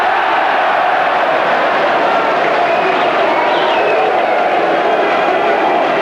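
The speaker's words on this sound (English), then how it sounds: "the crowd show their appreciation" A football stadium crowd at a Grimsby Town versus AFC Bournemouth match in 1990, cheering and applauding in a loud, steady roar that fills the whole stretch, with a commentator's voice faintly underneath.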